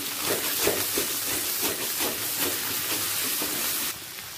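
Taro greens cooked with a hilsa fish head fry in oil with a steady, close sizzling hiss that pulses slightly and then drops in level just before the end.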